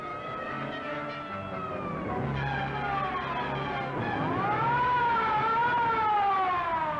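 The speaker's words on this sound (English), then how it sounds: "Police car, Trendle." A police siren wails loudly and steadily, its pitch rising and falling as it sweeps, heard alone without voices.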